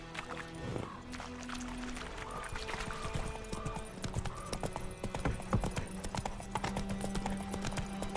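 A horse gallops with steady rapid clip-clop hoofbeats in The Witcher 3 video game, heard close and continuous over ambient game sound and music.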